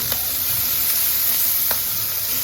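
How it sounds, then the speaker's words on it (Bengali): Tengra fish fries in a pan with a steady, close sizzle and hiss, broken by a couple of brief sharp crackles. "ট্যাংরা মাছটা এখন ভেজে নিব"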